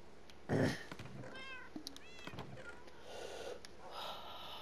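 Cat meowing in the video game Minecraft, several short meows and a snort-like sound, quiet against a faint background hiss.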